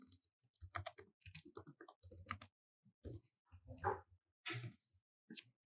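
Typing on a computer keyboard: quick, close bursts of clicking keystrokes in several short runs separated by brief pauses.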